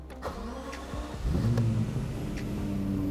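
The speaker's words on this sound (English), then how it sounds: "engine start" A Lexus LFA's V10 engine starts up: a faint starter whir, then the engine catches and settles into a steady, loud idle.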